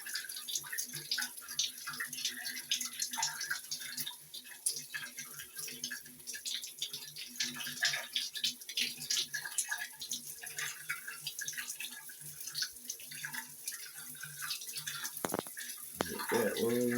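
Water pours from a newly installed rain shower head in a bathroom being remodeled, a dense steady spray and splatter that runs throughout, close and fairly loud, with someone talking over it.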